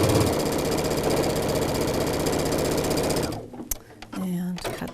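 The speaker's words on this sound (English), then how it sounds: "You're going to come in and do a 1/4-inch seam allowance and stitch that first seam." A sewing machine runs fast and steady, stitching a 1/4-inch seam joining pieces of a hexagon Halloween quilt, then stops abruptly near the end, leaving a few soft handling clicks.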